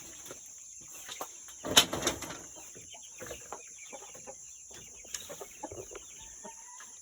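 Chickens cluck softly and intermittently nearby inside a coop, with scattered scuffling sounds and a steady high insect-like hum in the background.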